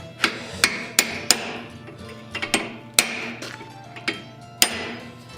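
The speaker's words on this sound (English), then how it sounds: "grab a chisel and" Hammer blows on a chisel cutting into hot forged steel for a decorative dragon's head, struck about eight times in an uneven rhythm with sharp, ringing metallic hits that stand close and loud.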